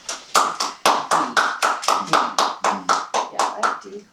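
A single person at a Toastmasters meeting claps about fifteen times in a steady, even rhythm, each clap crisp, loud and close, with no other sound between the claps.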